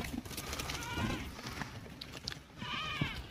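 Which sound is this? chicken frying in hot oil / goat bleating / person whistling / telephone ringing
goat bleating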